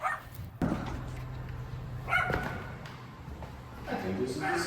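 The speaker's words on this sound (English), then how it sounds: "we don't have dogs that bark like this next to us" Dogs barking next door at a house under renovation, with several sharp barks at moderate distance spaced across the clip and steady background noise between them.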